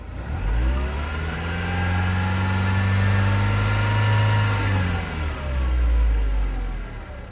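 A 2002 Mercedes-Benz MB 100 camper van engine revving close by, rising in pitch to a sustained high rev, easing back, then climbing again near the end, loud and alone.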